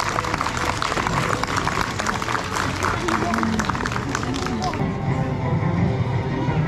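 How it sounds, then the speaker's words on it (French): An audience at a bird-of-prey show at Le Domaine des Fauves in France applauds after two owls perform, a dense burst of clapping that fades after several seconds into crowd murmur. "Allez, on va pouvoir applaudir nos deux chouettes qui ont ouvert le bal."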